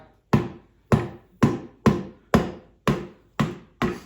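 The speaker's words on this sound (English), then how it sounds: "I will hammer the side of the tire" Eight sharp hammer blows strike the side of a tire to free it from the rim, landing at a steady, even pace, each a loud close-up impact with a short ringing decay, and no voices.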